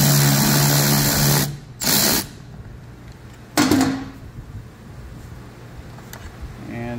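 A power tool whirs in short bursts while loosening a 3/8 screw on a clamp behind the gas tank of a Toro TimeMaster 30-inch mower. A steady high whine stops and restarts in brief spurts, with someone talking.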